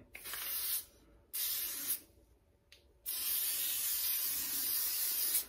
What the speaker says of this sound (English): And then grease it up. I'm going to use white lithium grease.